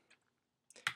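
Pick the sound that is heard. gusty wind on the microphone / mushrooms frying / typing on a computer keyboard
typing on a computer keyboard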